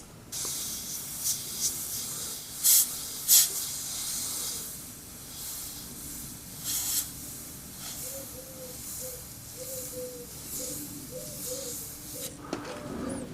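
An airbrush sprays paint in a soft, continuous hiss with several brief louder bursts and faint intermittent squeaks, no talk.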